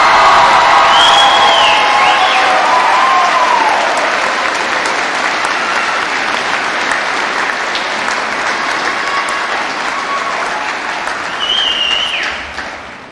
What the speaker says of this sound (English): Please give a big round of applause to the one and only Mr. Kevin Cahill.